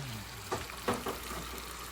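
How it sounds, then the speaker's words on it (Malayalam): Pieces of camel meat fry in hot oil, giving a steady soft sizzle with a few brief crackles and spatters, close and alone. "ഒട്ടകം എണ്ണയിൽ പൊരിഞ്ഞുകൊണ്ടിരിക്കുകയാണ്."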